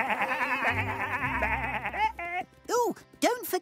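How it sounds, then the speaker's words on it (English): Cartoon sheep bleat repeatedly in short, wavering calls as they are herded through a gate, first under cheerful music and then alone in a few separate bleats near the end. "In you go, sheep!"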